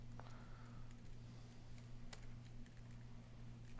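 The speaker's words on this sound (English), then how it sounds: "you can type in a message that is whatever you want" Someone types a message on a computer keyboard, the key clicks light and irregular, faint against a steady electrical hum.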